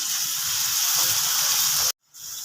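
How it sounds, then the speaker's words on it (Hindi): Water poured into a hot pan of fried red chillies sets off a loud, steady hiss and sizzle that cuts off abruptly, then resumes more quietly. "तो मैं थोड़ा सा इसमें पानी डाल देती हूँ"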